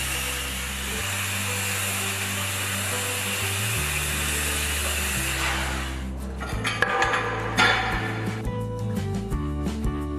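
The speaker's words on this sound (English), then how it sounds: "After the cut is over, remove the slag from all the gas cut surfaces." Slag being chipped off gas-cut steel surfaces on a cutting table: a steady loud hiss gives way to a dense run of sharp metallic scraping and clinking strikes, close by.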